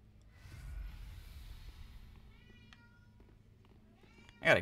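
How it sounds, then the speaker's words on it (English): A cat meows in the background, faint and intermittent among low room noise and video game sounds, ending with a louder burst. "I got a cat meowing in the background and everything"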